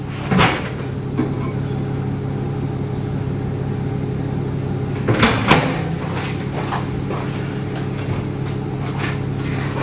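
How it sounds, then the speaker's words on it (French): Microwave oven door clunking open and a bowl being taken out, a few short knocks and clatters over a steady appliance hum in a home kitchen. "je sors le bol du micro-ondes"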